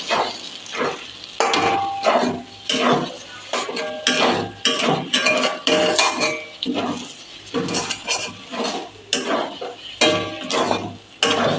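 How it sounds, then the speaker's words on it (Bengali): A utensil stirs bottle gourd greens cooked with ground lentil paste in a pan, with repeated scraping and clinking strokes against the metal in a steady rhythm, close and fairly loud, over a faint sizzle. "এবার সামান্য একটু চিনি দেবো, দিয়ে ভালো করে নেড়ে দেবো।"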